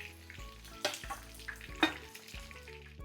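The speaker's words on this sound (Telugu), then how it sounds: "ఇలా మష్రూమ్ని ఫ్రై చేసేసుకొని ప్లేట్లోకి తీసేసుకుందాం" Mushrooms frying in hot oil in a pan for fried rice, a steady close sizzle with a few sharp spatula scrapes and knocks against the pan at irregular moments.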